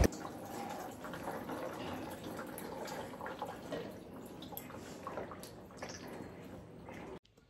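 Water is poured over a baby at bath time, giving a steady, close splashing and trickling that runs for about seven seconds before cutting off abruptly.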